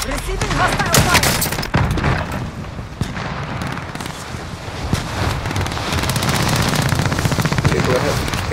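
Dense, loud bursts of automatic gunfire and booms fill a Call of Duty Warzone Resurgence match, nearly continuous with wind-like noise under it, while a voice speaks over the shooting.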